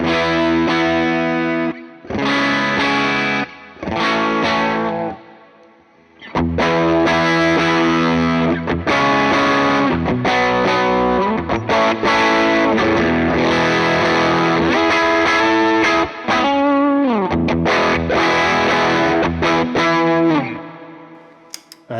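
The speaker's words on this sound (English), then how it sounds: "let's listen to this Benson preamp and see kind of how it's set up right now" Electric guitar played through a Benson preamp drive pedal on a pedalboard, a loud, saturated overdriven tone with strummed chords and short pauses early, then sustained driven playing that fades out at the end.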